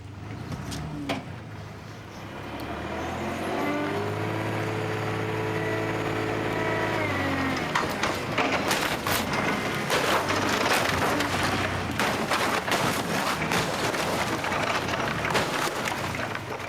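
An old car is crushed by machinery at a car breaker: a rising mechanical engine hum gives way to continuous loud crunching, splintering and cracking that grows denser and harsher toward the end.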